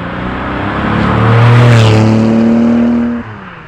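A 2010 Porsche 997 GT2 RS sports car driving, its engine note rising loud and close as it accelerates, then dropping sharply near the end.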